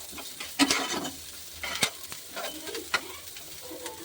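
Onion and capsicum fry in a pan for a homemade veg Manchurian, with a soft steady sizzle broken by a few sharp clacks and scrapes of stirring.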